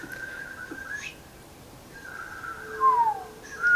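A person whistles in a scene from Avatar the Last Airbender, sustained shrill tones that rise and slide, with a short gap in the middle and a sharp upward sweep near the end, heard alone over quiet background.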